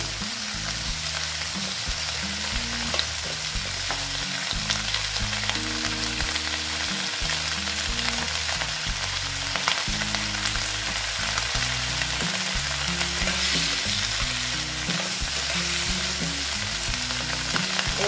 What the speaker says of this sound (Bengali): পেঁয়াজ কলিগুলো আমি এখন ভেজে নিচ্ছি।